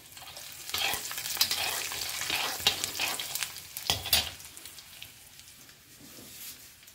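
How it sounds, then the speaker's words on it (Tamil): Dried red chillies and lentils frying in oil in a pan as cabbage stir-fry begins, a crackling sizzle with stirring scrapes, louder early then easing off. "இதோட நம்ம கொஞ்சம் வத்த மிளகாயை கிள்ளி போட்டுக்கலாம்."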